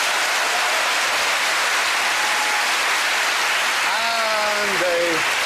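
Dense, sustained applause from a TV panel show's studio audience fills the whole stretch at high volume, with a voice rising over it near the end.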